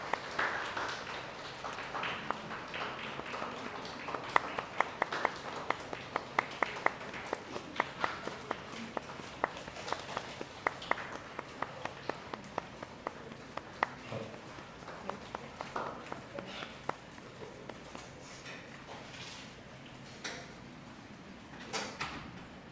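Audience golf clap at a K9s For Warriors graduation ceremony in Ponte Vedra, Florida: soft, sparse, scattered claps from a crowd, fairly quiet and continuing steadily in a reverberant room.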